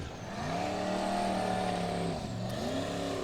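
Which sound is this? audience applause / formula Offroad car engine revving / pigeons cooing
formula Offroad car engine revving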